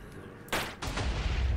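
A shotgun fires in a modded Minecraft Modern Warfare PVP session: one sharp, loud blast, then a second report with a rumbling tail, close and with no talk over it.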